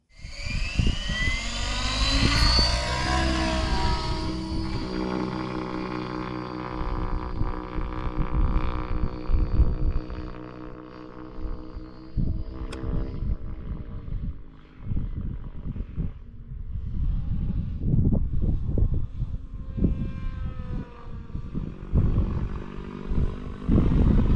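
An RC helicopter performs a 3D autorotation run with a forward flip and a pirouette, its rotor and engine whine sweeping loudly and steadily through the manoeuvre, with rising and falling pitch and turbulent swooshing, no talk.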